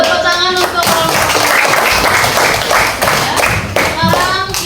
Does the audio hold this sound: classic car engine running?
no